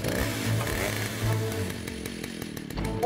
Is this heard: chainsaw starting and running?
yes